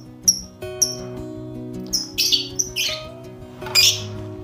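Nineteen-day-old lovebird chicks inside a wooden nest box give a handful of shrill squawks and raspy cries in irregular bursts, close up against a low background hum.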